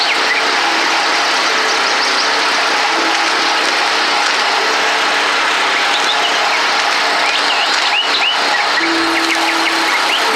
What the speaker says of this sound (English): What's that? Generator.